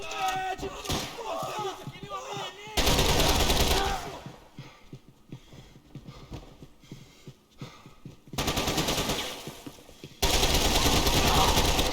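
Sustained bursts of rapid automatic gunfire from the video game Max Payne 3 come in three loud, dense stretches, separated by quieter in-game sounds and someone talking.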